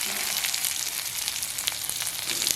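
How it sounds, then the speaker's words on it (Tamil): Onions sizzle steadily in hot oil with fenugreek seeds in a pan for a spicy Jaffna crab curry, a close, continuous frying hiss with small crackles and no voices. "நாங்கள் வெங்காயத்தை போட போகிறோம்."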